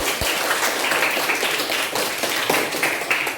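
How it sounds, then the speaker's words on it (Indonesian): A school class claps hands for a group of classmates, a dense, fairly close burst of many hands clapping at once that stays steady and lively for the whole stretch, with no talk over it. "Tepuk tangan sekali lagi"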